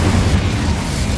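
An Incendio fire spell cast in Hogwarts Legacy, a loud, dense burst of roaring flame that rumbles on evenly for just over a second, heard alone without talk.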